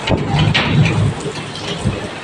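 Rain falling steadily with a low rumble underneath, moderately loud and continuous, no talking.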